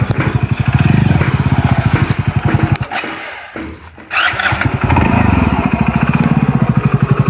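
Motorcycle engine running close by with a rapid, even chugging pulse, loud and steady, dropping out briefly near the middle before revving back to the same throbbing idle.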